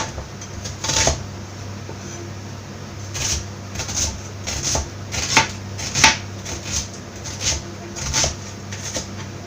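A knife chops coriander, green chili, tomato and onion finely on a board, giving close, sharp, irregular taps in short clusters with quiet gaps between them.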